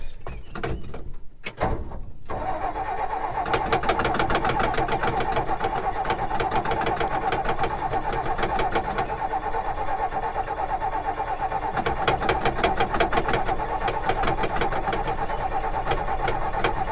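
A big old 262 inline-six with a four-speed, choke pulled, cranking steadily without catching, a continuous rhythmic starter drone with a brief clunk and pause near the start.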